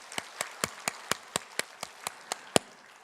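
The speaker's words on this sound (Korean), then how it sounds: "우리 하나님께 영광의 박수 올리겠습니다" A church congregation claps together in a steady, even rhythm, about a dozen sharp claps spaced evenly across a few seconds, with no voices over them.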